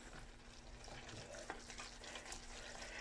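A spoon stirs a casserole mix of cream of soup and a poured-in powder packet, giving a steady, close, wet scraping and swishing texture throughout with no speech over it.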